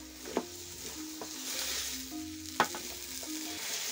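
Bananas and other ingredients stirred in a cooking pot over a village fire, with sizzling frying, scraping strokes of a spoon, and a couple of sharp knocks against the pot.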